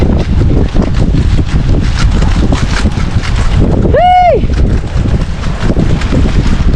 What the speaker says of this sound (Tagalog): Asma naman ang hangin.